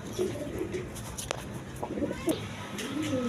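Colored pigeons, including red Ghorra breed birds, cooing in a cage, with repeated low throaty coos close by and occasional faint chirps and rustling around them.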